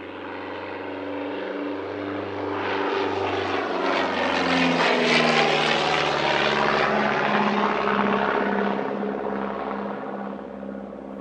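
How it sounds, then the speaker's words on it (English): A propeller aircraft performs close passes at the East Kirkby airshow in 2022. Its engine drones loud and near, swelling to a peak halfway through, then fading slightly as the plane moves away. No voices are heard. "the crowd get to see this gorgeous aircraft from every angle at very close quarters"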